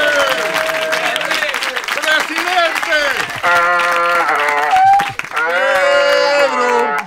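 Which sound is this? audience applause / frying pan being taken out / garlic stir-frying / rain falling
audience applause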